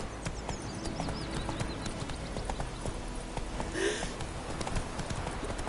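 Horse galloping in the Witcher 3 video game, a steady rapid clip-clop of hooves at moderate volume with a brief whinny partway through over game ambience.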